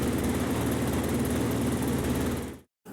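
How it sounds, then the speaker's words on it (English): A Honda CRF450 dirt bike engine idles steadily nearby after an oil change, a continuous low throbbing drone that cuts off abruptly near the end before briefly resuming. "start your bike, and let it idle for 3 to 5 minutes"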